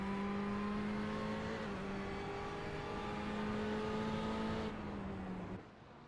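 Ferrari Challenge race cars battling at Spa in a racing game: a steady, fairly quiet engine drone with small pitch shifts from gear changes, fading sharply at the end, with no talk.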